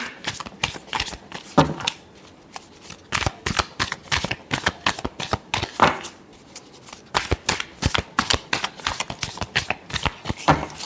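Tarot cards being shuffled by hand, a long run of quick, crisp riffling and flicking bursts, close and fairly quiet, with brief pauses between shuffles and no talking.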